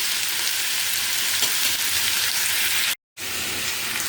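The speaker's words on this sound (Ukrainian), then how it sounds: "а так зараз обжарюю з моркою цибулькою" Carrot and onion frying in a pan, a steady loud hiss and sizzle with fine crackling throughout, broken by a sudden brief dropout near the end before the sizzle resumes.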